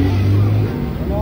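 Motorized tricycle engine idling and rumbling close by at night near a street corner, a steady low drone under ambient noise.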